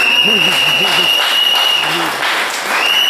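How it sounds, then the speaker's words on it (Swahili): A church congregation at an Easter Sunday service claps together in steady, sustained applause while a voice speaks loudly over it. "Tupigeni makofi."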